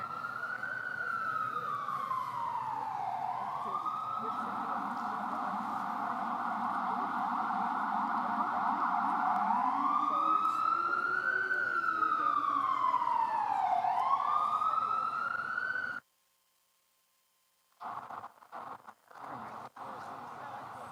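A loud emergency siren wails up and down in long sweeping cycles, then cuts off abruptly, followed by brief silence and faint scattered sounds.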